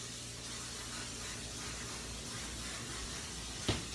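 Cooking spray hissing steadily as grease is sprayed into a brownie baking pan, one continuous close spray with a small knock near the end.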